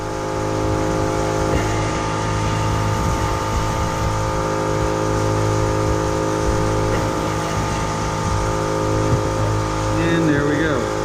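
An air compressor runs in a guitar workshop with a loud, steady mechanical drone that stays constant close to the listener throughout.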